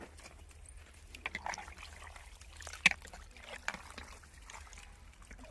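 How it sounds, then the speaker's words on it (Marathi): Quiet water trickles and splashes close by, with soft handling sounds and small sloshes as mutton is rinsed. "स्वच्छ दोन ते तीन पाण्याने आपण मटण धुवून घेऊया"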